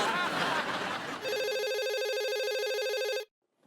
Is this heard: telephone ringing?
yes